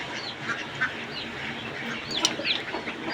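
Domestic ducks and young Muscovy ducklings quack and chatter close by in a farmyard pen, with scattered overlapping calls and a busier cluster of quacks near the end, no one speaking.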